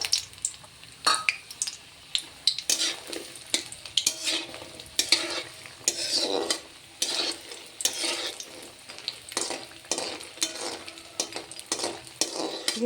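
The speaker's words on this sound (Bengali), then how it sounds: "প্রথমে ডালের বড়ি, মাসকালের ডালের বড়ি ভেজে নিলাম।" Black gram lentil dumplings (bori) frying in hot oil, a steady close sizzle broken by repeated sharp scraping and stirring clatter of a utensil against the pan.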